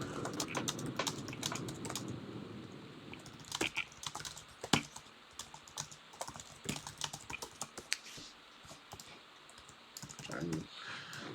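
Rapid keystrokes on a computer keyboard, tapped out in uneven bursts while messages are typed during a game, sit close and clear over a low background hum with occasional quiet voice sounds.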